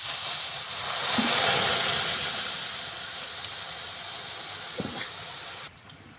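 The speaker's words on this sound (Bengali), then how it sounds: "চিনিটা গলে রস হয়ে গেছে, টকবক করে ফুটছে" Sugar melted with a little water boils into syrup in a pan, giving a steady close hiss of bubbling with a couple of soft knocks, fading near the end.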